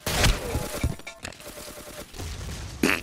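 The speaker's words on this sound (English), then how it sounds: "We're shooting up in here now." Gunfire in the blocky multiplayer shooter Ace of Spades, a handful of sharp shots spread across a few seconds with a burst near the start and another near the end, amid game background noise.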